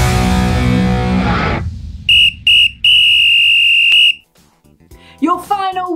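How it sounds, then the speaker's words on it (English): A referee-style whistle gives three sharp blasts, two short toots and then a longer sustained one, loud and close, following a stretch of talk and music and ending with a brief voice. "Your final whistle challenge is, you've guessed it, word and action."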